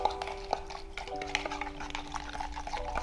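Salt and baking soda being stirred together for handmade Japanese noodles, a quiet scraping and clinking of a spoon in a bowl, steady and close with no talking.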